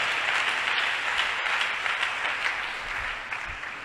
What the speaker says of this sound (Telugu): కొట్టు చప్పట్లో ఒకసారి బా